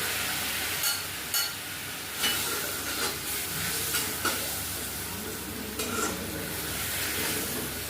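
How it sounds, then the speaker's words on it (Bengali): Spice paste of ginger, tomato, turmeric, chilli, coriander and cumin powders frying with a splash of water in a pan, a constant close sizzle broken by periodic spatula scrapes and stirs. "একটু জল দিয়ে এটা কষে নেবো ভালো করে মশলাটাকে।"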